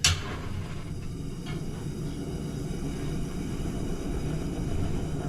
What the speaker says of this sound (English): Sounds like a jet engine burning.